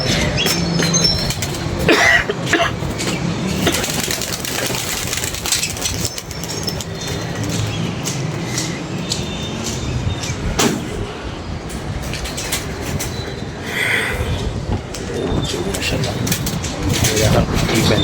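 Pigeons burst out of a rooftop loft with bursts of wing flapping and scattered low cooing, heard near and fairly loud against a busy outdoor background.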